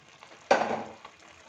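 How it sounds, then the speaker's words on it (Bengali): Mutton fat, liver and potatoes are stirred in a pan, giving a single loud scrape and sizzle burst that fades away, with faint frying before and after. "ভালো করে আবার একটু নাড়িয়ে দিচ্ছি লবণটা দিয়ে।"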